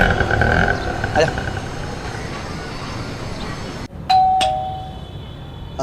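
A doorbell in a home rings once, a loud, clear chime near the end that cuts through a steady murmur of room noise and faint background voices.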